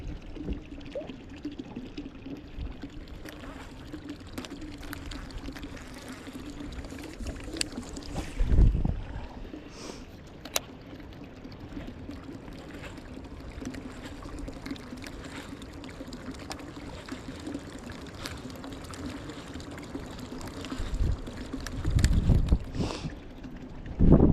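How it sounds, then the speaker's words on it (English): Steady pouring and trickling of water running into a boat, continuous for the whole stretch with a low hum and occasional knocks and bumps, close and moderately quiet, with no voices. "Gosh, that water's still running now."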